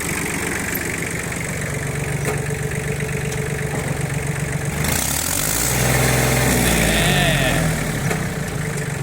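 Kubota B1702 three-cylinder, 17-horsepower Japanese tractor with a rotary tiller attached, its diesel engine running at a steady close idle, then rising slightly partway through, with faint voices underneath.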